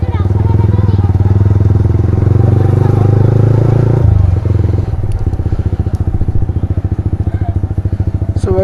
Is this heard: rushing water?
no